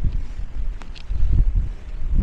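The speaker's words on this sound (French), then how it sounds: "Il y a un vent horrible." Strong, cold wind buffets the microphone at a scenic viewpoint in the Belgian Ardennes, rumbling in loud, uneven gusts that swell and drop, with no voices over it.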